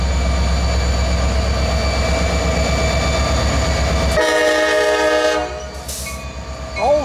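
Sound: CSX train with EMD diesel locomotive hauling Tropicana juice cars

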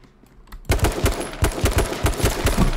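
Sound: gunfire in the H1Z1 video game

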